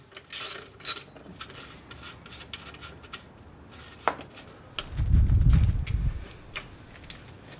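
Hand tools work an old alternator loose with scattered ratcheting clicks, metallic taps and creaks. A heavier grinding rub follows as the unit shifts free, all close up with no talk.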